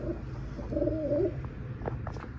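A pigeon coos softly a few times, low and throaty, against a quiet background with faint chirps from other birds.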